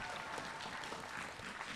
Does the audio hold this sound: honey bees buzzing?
no